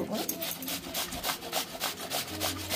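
A cucumber rubbed against a hand grater, giving steady, rhythmic rasping strokes about three or four per second, close and fairly loud with no voices.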